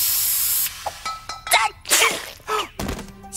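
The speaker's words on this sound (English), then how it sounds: "Sneeze spray? Why do I even have that?" A cartoon sneeze spray fires in a sharp hissing burst, followed by quick comic whacks, a sneeze-like blast and short noisy hits, close and fairly loud with no talk.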